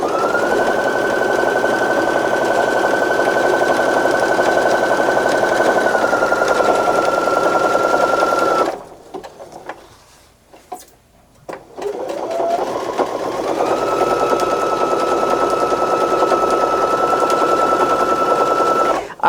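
A sewing machine stitches a second seam along a log cabin quilt block, running steadily with a sustained whine, pausing briefly midway before starting up again and running on to the end.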